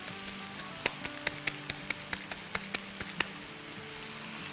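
Egg mixture for burgers fries in a pan in a home kitchen, giving a soft, steady sizzle with small crackling pops scattered throughout. No voices are heard.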